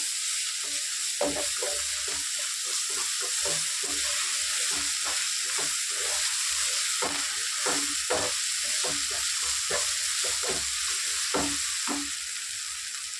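Ginger paste frying with onions in a pan for a chicken curry, giving a steady, close sizzle with repeated stirring scrapes and clicks spread through the clip; no talking.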